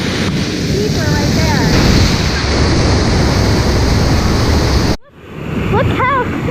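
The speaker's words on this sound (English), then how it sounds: "It's a waterfall." Swallow Falls waterfall roars as a steady, loud rush of falling water close by, broken by a brief dropout near the end, with voices talking over it.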